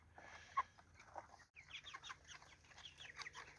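Meat chickens in a movable chicken tractor cluck and murmur softly, a faint, scattered stream of low calls and chatter in an otherwise quiet outdoor setting.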